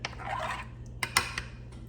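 A utensil stirs an agar mixture in a pot for mushroom growing, with a soft swirling scrape followed by a few sharp metallic clinks against the pot, close and clear with no talking.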